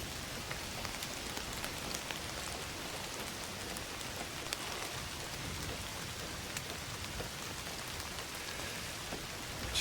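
Continuous rain in the video game Indiana Jones and the Great Circle falls on a hard surface, a dense patter of drops with no voices, steady and even from start to finish.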